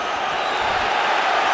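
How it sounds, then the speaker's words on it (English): A boxing arena crowd at the Adamek versus Briggs rematch roars in a dense, steady wash of cheering and noise that swells slightly, loud and continuous throughout. "The crowd comes to life."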